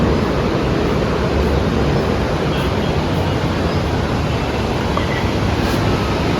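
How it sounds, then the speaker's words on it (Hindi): Natural waterfall and river water near Manali in the Himalayan mountains rush in a steady, loud broadband roar that holds constant throughout, without any voices. "यहाँ से नीचे आपको नेचुरल झरना नदी टाइप ये वाटर फ्लो दिखेगा"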